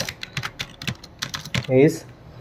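Quick clicks of a computer keyboard typing in MS Word come in short irregular bursts, close and crisp, while someone speaks briefly over them.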